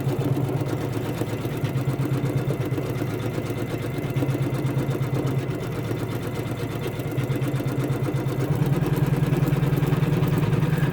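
An embroidery machine stitches a Christmas doorstop with a steady, fast mechanical hum and rapid needle rhythm, running continuously at moderate volume.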